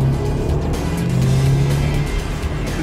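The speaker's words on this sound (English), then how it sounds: "it'll catapult the Audi S1 from 0 to 100 kilometers an hour" An Audi S1 Sportback with its TFSI engine and quattro drive pulls hard under acceleration, a loud close engine roar with rising tonal drone and road noise filling the whole short stretch.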